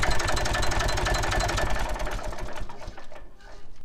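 A vintage Massey Ferguson 35X tractor engine ticks over slowly at close range, a rapid even chugging with mechanical clatter that eases slightly toward the end.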